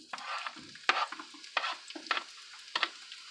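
Onion hitting a pan and being stirred, a few short scraping, sizzling bursts spaced unevenly over a few seconds, fairly quiet and close with no talking.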